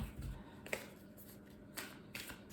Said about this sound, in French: On va faire un tirage de 9 cartes.